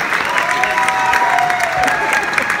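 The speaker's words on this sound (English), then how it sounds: "a round of applause for everybody that dressed up in costume" A film-screening audience applauds costumed attendees dressed as characters, a brief burst of dense clapping and light cheering from a crowd, fairly loud and close, with a faint tone under it.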